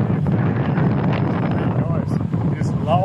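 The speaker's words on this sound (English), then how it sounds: "Loud here. I'm on my scooter, on my little motorbike in Thailand." Riding a small scooter motorbike in Thailand, heavy wind buffets the microphone in a constant loud low roar, with faint engine drone underneath and brief chirps near the end.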